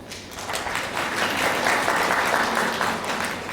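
A congregation at the Anakkara–Kumily Bible convention breaks into sustained applause. Many hands clap in a dense, continuous wash that swells slightly and stays loud throughout.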